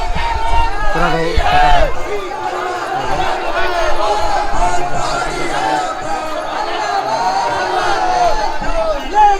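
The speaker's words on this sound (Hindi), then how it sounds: "यहाँ पे हज़ारों की संख्या में भीड़ है यहाँ पे" A large crowd of thousands at a protest in Uttarakhand produces a loud, continuous roar of many voices, with shouting and babble rising and falling throughout at close range.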